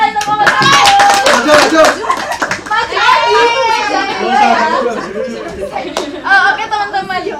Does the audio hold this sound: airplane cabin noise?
no